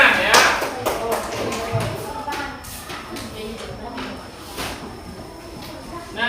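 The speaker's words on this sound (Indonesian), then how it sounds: "Beri tepuk tangan ya" A primary school class in Indonesia applauds in the classroom, giving a burst of scattered hand clapping that fades into a softer patter, with voices mixed in.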